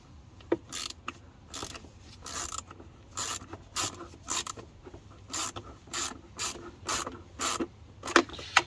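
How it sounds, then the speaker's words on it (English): A ratchet with a 7mm socket tightens the air filter fitting on a BMW E92, giving close, rhythmic bursts of clicking strokes repeated about every half second with no talk. "So it's a 7mm socket. Tighten that up."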